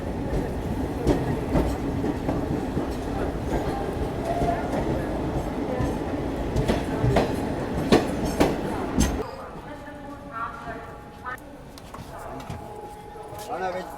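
A Delhi–Prayagraj special train pulls out and rolls along the rails, with rhythmic clickety-clack and wagon rumble heard from inside. The noise drops noticeably partway through, and voices murmur in the background.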